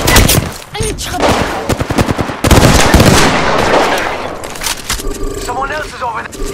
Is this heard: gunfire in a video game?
yes